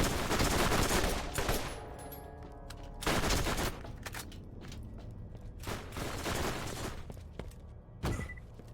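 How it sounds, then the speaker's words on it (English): A bomb blast in the Ratchet and Clank video game: loud, broad bursts at the start and around three seconds, then a sharper burst near eight seconds amid ongoing game effects. "Does it just blow up once that bomb goes off?"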